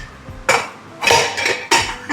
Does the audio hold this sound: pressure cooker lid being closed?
yes